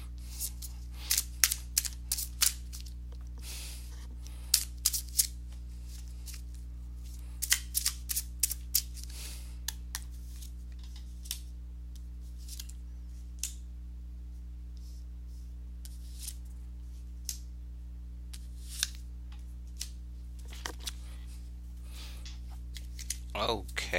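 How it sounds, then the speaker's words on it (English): A deck of Sherlock Holmes tarot cards shuffled by hand, giving bursts of quick, crisp riffling flicks that come and go over steady background hum, with quieter scattered clicks between the bursts. "let me go ahead and give these cards a shuffle"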